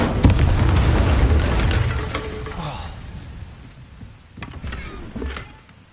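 A booming fire-spell blast from the Incendio charm in Hogwarts Legacy, a loud burst that rumbles and fades, followed by smaller crackling pops.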